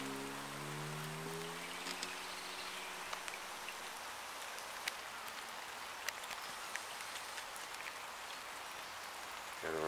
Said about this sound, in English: Anyway, it's raining.